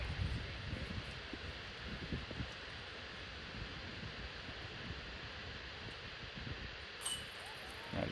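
Steady wind blows across the microphone on a disc golf course as a continuous rumbling whoosh with gentle gusts, and no voices are heard.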